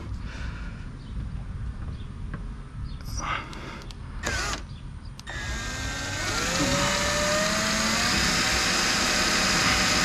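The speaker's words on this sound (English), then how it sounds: "So I'm gonna drill here," A power drill bores holes into a carbon fiber front fender on a C6 Corvette widebody, a few brief bumps and taps followed by a steady, close whine with a shifting pitch.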